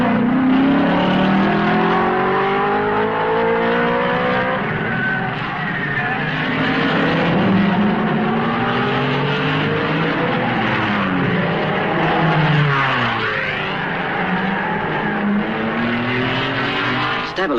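Mercedes W196 and Ferrari racing cars from 1955 brake hard into the La Source hairpin at the Belgian Grand Prix; loud, continuous engine wails drop in pitch through downshifts, then climb again as the cars accelerate away.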